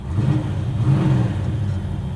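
A 1968 Dodge Dart GT with a 440 engine runs close by with a steady, throaty low rumble. The engine holds a fairly even revving drone throughout, with no voices.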